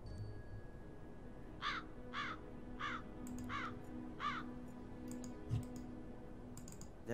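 A crow in the video game Black Mirror III caws in a steady series of about five harsh calls. Faint clicks sound over a hissy ambient backdrop, and no one speaks.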